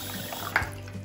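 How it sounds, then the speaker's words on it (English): Warm water poured into a pet water bottle with a little dish soap, a soft steady trickle with a brief splash midway, close and fairly quiet. "And then we're gonna add some warm water."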